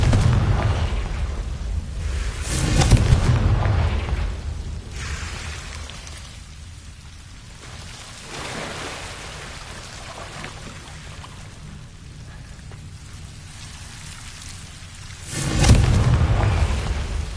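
Fiery blasts from the Confringo explosion spell in the video game Hogwarts Legacy: a heavy boom near the start and another near the end, with a low rumbling, crackling tail between them.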